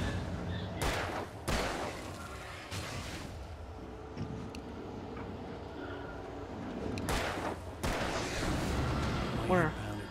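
Gunfire in Alan Wake, several sharp, loud shots spaced irregularly over a dark rumbling ambience, with a pair near the start, one more shortly after, and a final blast later.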